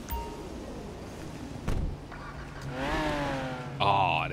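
A car in a GTA 5 mod, fitted with an engine sound meant to be a V12, revs in short rising bursts that climb in pitch, with a door-like thump between them and a louder final rev.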